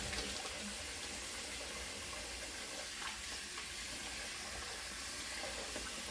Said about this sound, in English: I know I leave my water running in it